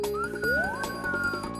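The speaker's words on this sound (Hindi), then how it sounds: "सीटी बज तो रही है।" A cartoon pressure cooker whistle rises and holds as a steady tone for over a second, sounding alone over background music with no talk.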